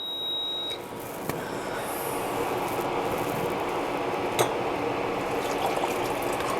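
Hot water, just heated in a pan, poured into a drinking glass: a steady close-up pour with a continuous watery rush lasting most of the clip, preceded by a brief faint tone.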